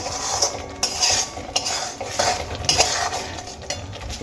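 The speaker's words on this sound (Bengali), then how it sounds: "এবার খুব ভালো করে মশলার সঙ্গে মিশিয়ে নেবো" Spoon or spatula stirring tamarind into a spice mixture in a pan for a brinjal and tamarind dish, with repeated metallic scrapes and clinks in an irregular rhythm, close and fairly loud, no talking.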